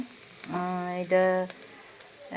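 Steady, soft sizzling of ingredients being sautéed together in a pan for a home-cooked meat masala dish, with a voice talking over it partway through.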